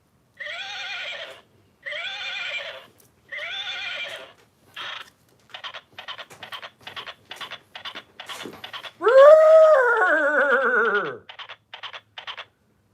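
Indoor horse whinnies: three short identical neighs evenly spaced, then a string of quick clip-clop taps, then one long loud descending whinny followed by a few more taps, all close and clear with no talking.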